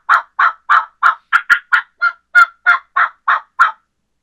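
A person imitates a wild turkey's chuck or cluck call with the voice, giving about a dozen short, sharp, evenly spaced notes. The calls are close and loud against silence.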